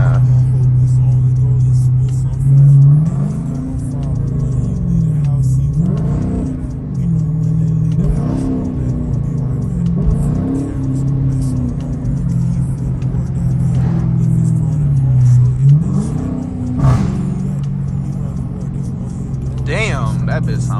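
A Dodge Challenger R/T engine revs hard and accelerates, loud and close, in repeated rising and falling surges over a steady low rumble.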